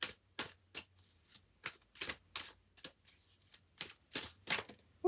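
Tarot cards being shuffled by hand, a series of crisp, close riffling bursts in an uneven rhythm, quiet and with no talking.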